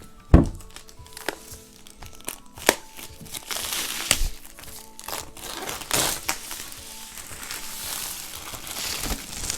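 Plastic wrap crinkles and tears as it is peeled off a MacBook Pro 16 box, with sharp crackles and soft thuds scattered over several seconds, close up and with no talking.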